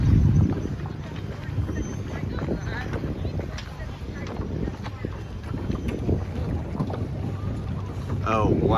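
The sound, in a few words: wind on the water during a sailboat race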